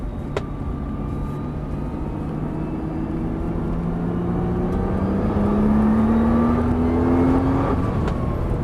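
A car accelerates hard along a race circuit to overtake a Renault Twingo, its engine droning loud and close with the pitch climbing steadily, and no one talks.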